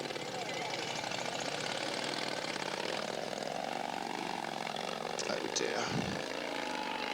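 A hill climb motorcycle with a 1600cc Harley engine, nearly 12 feet long and over 200 kilos, revs and roars steadily at the Rachau event, its pitch rising and falling while a voice speaks over the engine.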